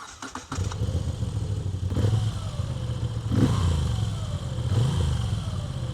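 A 2026 Moto Guzzi V7 Special's transverse V-twin engine idles with a low, lumpy rumble, then revs up and settles several times, close by after a brief clatter at the start.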